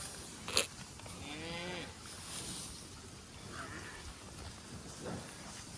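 A cattle herd with calves comes down a hill, with a lone moo and scattered lowing at a distance over steady outdoor ambience and a soft rain-like hiss, plus one short sharp knock near the start.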